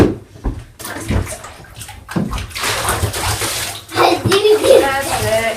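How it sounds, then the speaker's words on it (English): Water runs and splashes steadily while a dog named Monty is rinsed in a bath, with sloshing and dripping close by and someone talking over it at points. "So we're rinsing all the water off"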